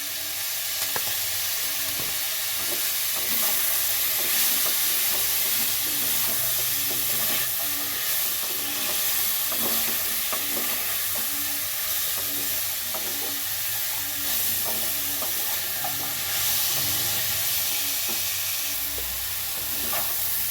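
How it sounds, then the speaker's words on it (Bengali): Vegetables sizzle steadily in a kadai after a pinch of salt, with a spoon scraping and stirring at a regular pace throughout, close and loud, and no voices. "এই যে এইগুলো আমার একটু সব ভাজা হয়ে গেছে।"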